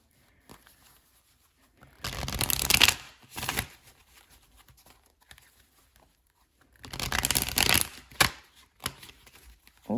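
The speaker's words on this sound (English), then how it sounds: "Give me a second to shuffle." Tarot cards being shuffled by hand during a reading, heard as two close, papery riffling bursts of about a second each, separated by a few seconds of near silence.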